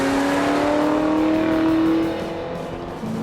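A Ford Mustang GT with a Chip Foose design, new stance and suspension upgrades cruises at about 70 mph, its engine giving a steady, loud, low rumble from inside the car, easing slightly toward the end.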